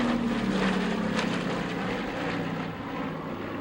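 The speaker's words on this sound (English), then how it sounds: "Here it comes over from the left, folks, the Constellation" A Lockheed Constellation propeller airliner drones overhead at an air show, its engines loud and steady at first, then slowly fading as it passes into the distance.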